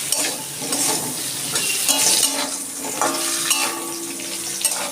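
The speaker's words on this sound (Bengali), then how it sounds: "আমি আলুতে অল্প একটু নুন দিয়ে দিচ্ছি আলুটা আমি একটু লাল লাল করে ভেজে নেব" Potatoes frying in hot oil with a little salt: continuous close sizzling with repeated stirring scrapes and clinks of a utensil against the pan, no voices.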